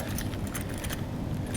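A bunch of keys jangles close up in a steady metallic rattle, at a truck cap camper campsite.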